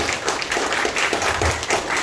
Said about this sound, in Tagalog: Gusto yung palakpakan yung mga tatay mo?